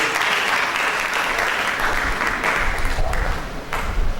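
An audience at a medical conference gives a sustained round of applause, many hands clapping in a dense, even roar that swells slightly toward the end, with no talk over it.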